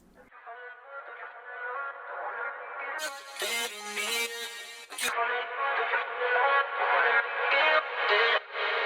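An intro vocal chop opens a pop song, a sung phrase cut up and printed with sidechain pumping, distortion, reverb and filtering, thin and band-limited at first, then opening into a full bright sweep before settling into pulsing chopped bursts.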